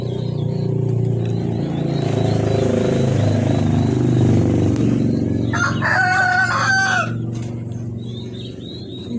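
Turkeys on a turkey farm call out in a short burst of harmonic gobbling and yelps partway through, over a steady low rumble of background hum.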